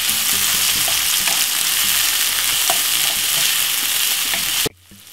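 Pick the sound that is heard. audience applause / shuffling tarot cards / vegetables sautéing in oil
vegetables sautéing in oil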